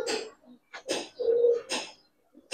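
A male Giribaz pigeon coos in several short, low, throaty phrases with brief pauses between them, close by in a quiet setting.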